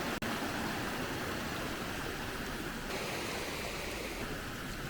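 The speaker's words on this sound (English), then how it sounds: "there is this beautiful, picturesque little creek that runs down next to the cabin" A small creek beside a cabin runs with swollen storm water, giving a steady broadband rush throughout with one brief click near the start and no talking.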